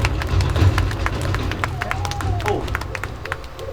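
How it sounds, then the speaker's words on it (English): Scattered clapping from an audience at the Kings of the Skies bird show at Jurong Bird Park, with crisp individual claps and light crowd murmur that thin out toward the end. "Another big round of applause for Titan, our turkey vulture, everyone"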